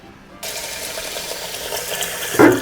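Water poured into a pot over raw pork for pozole rojo, a steady broadband rush of liquid lasting a couple of seconds, close and moderately loud, ending with a brief splashy burst.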